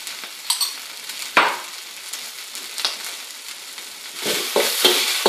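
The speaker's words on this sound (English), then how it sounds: "I'm just going to add a bit of garlic to it now and give it a bit of a stir." Garlic frying in a pan for fried rice while being stirred, a soft steady sizzle with light scraping stirs and a few small clacks, fairly quiet throughout.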